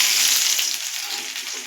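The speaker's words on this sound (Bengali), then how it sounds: "কড়াইতে দিয়ে দিয়েছি তেল। এবার আদা রসুনটা গ্রেট করে রেখেছিলাম কিছুটা," Grated ginger and garlic fry in hot oil in a wok, giving a steady, close, fairly loud sizzle and crackle that holds evenly throughout with no talking.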